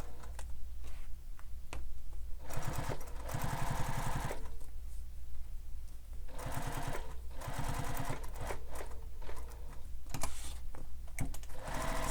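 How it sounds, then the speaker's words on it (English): A sewing machine sews a pocket onto a Bella Bag in repeated bursts of fast, even stitching with short stops between, up close and alone. "Now I'm going to sew the pocket in place."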